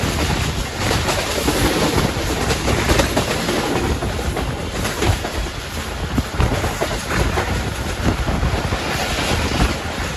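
The 46DN Pakistan Express rolls through a railway station, a loud, continuous rumble of wheels and carriages with steady wind buffeting throughout.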